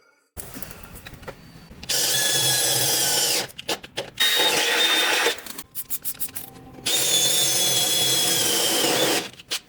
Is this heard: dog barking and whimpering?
no